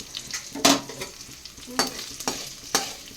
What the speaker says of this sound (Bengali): চিকেনগুলো কিন্তু খুব সুন্দর করে আমার লবণ হলুদ দিয়ে ফ্রাই করে নিয়েছি